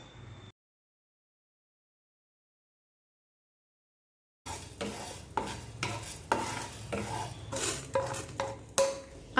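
Coriander seeds and black pepper are dry-roasted in a pan for fish curry, with a utensil stirring and scraping in steady, close strokes over a faint sizzle after several seconds of silence.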